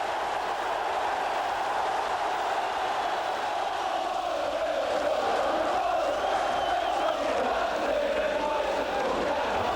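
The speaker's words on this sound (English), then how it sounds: "The Ayresome Park crowd revelling in the return of First Division football here this season" A packed football crowd at Ayresome Park, Middlesbrough, celebrating a First Division season: a loud, continuous roar of cheering and chanting that swells and holds for the whole stretch, dense and distant-sounding like a full stadium.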